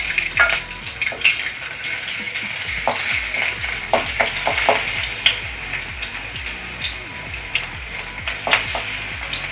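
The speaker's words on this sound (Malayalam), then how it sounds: "ചീനട്ടിയിൽ ഇത്തിരി ഓയിൽ ഒഴിച്ച് നമുക്ക് ഇഞ്ചി ആദ്യം ഇട്ട് കൊടുക്കാം" Ginger sautés in oil in a pan for tapioca bonda, making a continuous close crackle and sizzle dotted with sharp pops, with no speech.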